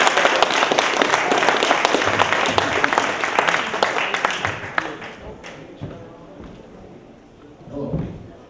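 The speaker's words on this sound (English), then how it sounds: "give one more big round of applause to Jonathan and Jerry" A bookstore audience gives a big round of applause, loud and dense at first, then it thins into scattered claps and a few thumps, and voices follow at the end.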